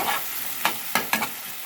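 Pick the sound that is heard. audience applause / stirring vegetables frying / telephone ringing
stirring vegetables frying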